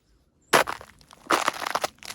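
Footsteps crunching over frozen earthbag walls at an earth house building site, two close bursts of brittle crackling and crushing separated by a short pause.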